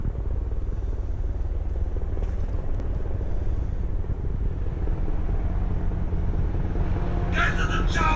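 A helicopter flies overhead in foggy conditions, giving a steady low rotor rumble that persists throughout, with a brief voice near the end.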